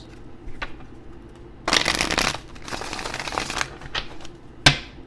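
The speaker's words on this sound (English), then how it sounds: "2 more shuffles" Tarot cards being shuffled close by: a few light flicks, then two dense riffling bursts of cards, and a final sharp snap as the deck is squared.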